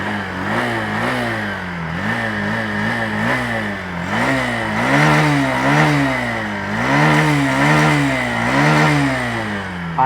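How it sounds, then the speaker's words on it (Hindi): The 2026 Honda Shine 100 DX motorcycle's engine revs up and down with repeated throttle blips, its loud buzzing pitch rising and falling in several close, quick surges. "थ्रॉटल देता हूँ,"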